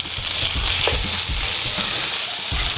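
Chicken pieces sizzle loudly in a pan for an Afghani-style chicken do pyaza, with a steady bright hiss broken by low thuds and scrapes of stirring throughout; no one speaks.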